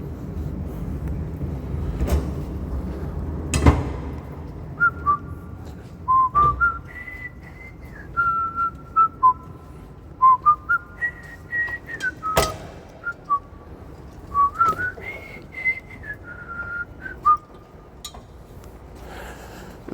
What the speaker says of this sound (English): I whistle while I work sometimes